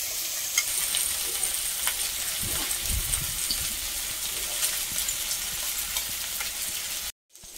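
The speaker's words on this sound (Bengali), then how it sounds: "চিংড়ি মাছ ভাজা হয়ে গেছে," Prawns frying in a wok, a dense close sizzle and crackle that continues steadily with low stirring thumps midway, before cutting off abruptly near the end.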